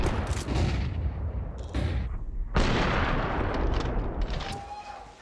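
Rapid gunfire and heavy reports crack through a Counter-Strike match in the BLAST Bounty Malta 2026 grand final between Team Spirit and MOUZ, loud, dense and overlapping, with sharp onsets and short pauses, under faint casting voices.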